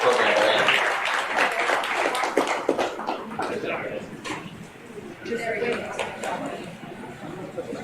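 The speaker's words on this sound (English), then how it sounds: "let's give these exhibitors a big round of applause for this program they're in." Applause for exhibitors at a goat show in a grass show ring, scattered clapping from a crowd mixed with chatter and voices, louder at first, dipping midway, then picking up again.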